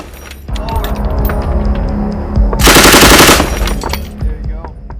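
A machine gun firing a short loud rapid burst of about a second amid a busy mix of mechanical clanks and other sounds.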